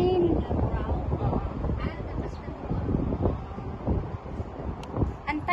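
Wind buffets the microphone aboard a boat out on open water, a steady rushing roar with gusty surges throughout, while faint voices carry underneath.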